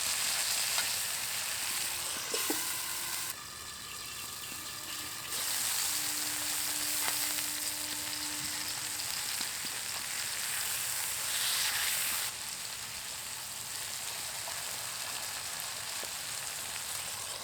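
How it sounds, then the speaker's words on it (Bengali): Chicken pieces for shawarma fry in a pan, a steady close sizzle running throughout with occasional clinks and scrapes as the pieces are turned. "আবারও উল্টে পাল্টে দিয়ে ভালো করে ভেজে নেব সব দিকটাই"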